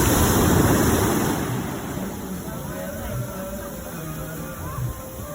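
Ocean waves wash onto a beach in a steady, close roar that is loudest at the start and then settles into a lower continuous rush.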